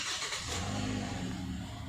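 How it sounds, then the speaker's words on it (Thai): A 2016 Toyota Altis 1.6G's engine cranks and catches, then settles into a steady, rumbling idle close by. "ผมสตาร์ทเครื่องยนต์เลยนะครับ"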